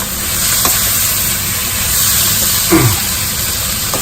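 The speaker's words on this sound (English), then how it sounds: "at this stage, I add the potatoes, right, and then fry it" Boiled potatoes fry in a pan with cumin powder, onion and tomato, giving a loud, steady, close sizzle with a few faint scrapes and no talk.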